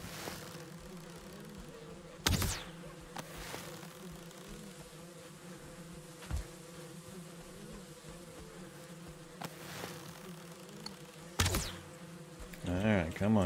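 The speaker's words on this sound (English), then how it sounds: "I hear bees. Must stop for bees." Bees buzzing at a beehive in the Valheim video game, a steady low hum running throughout with a few sharp clicks and bursts over it.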